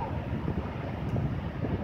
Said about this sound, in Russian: Просто ветер дует в сторону моря.